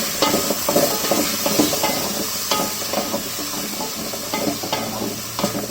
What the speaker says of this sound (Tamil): நம்ம அரைச்சி வச்சுருக்க இந்த சின்ன வெங்காயம் கருவேப்பிலை பூண்டு சோம்போட பேஸ்ட் இதில் நம்ம போட்டுக்கலாம். நல்லா வதங்கணும்.